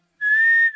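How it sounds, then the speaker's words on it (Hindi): A single short, shrill whistle blast, steady and piercing, starting abruptly after a brief silence and cutting off after about half a second. "किसने बजाई सीटी?"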